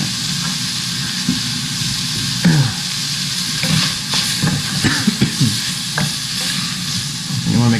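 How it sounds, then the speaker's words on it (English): Steady sizzling hiss from a pot of corn soup as a whole block of butter melts in, with a spoon scraping and stirring in close, irregular strokes throughout and no talk. "Let's just put this whole thing of butter in there."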